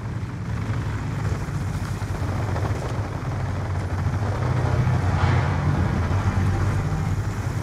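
A friendly care-package helicopter in the Black Ops 2 video game, a steady rotor and engine drone that builds slightly louder midway, heard continuously with no talk over it.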